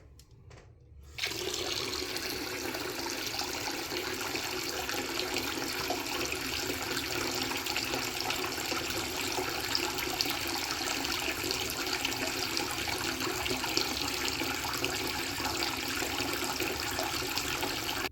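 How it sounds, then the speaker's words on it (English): Cold water gushes from a tap into a sink basin already holding hot water, beginning abruptly after a brief quiet moment and then running steadily and loudly for the rest, with no voices. "Now the fun part is turning on the cold water."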